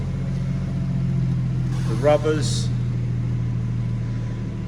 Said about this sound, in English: You just hear the engine coming down off of the higher idle.